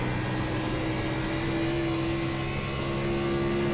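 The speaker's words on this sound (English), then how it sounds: "And you could hear the engine revs." An Xfinity race car engine drones at Dover, a steady, loud onboard roar with a sustained whining tone and no clear changes in pitch.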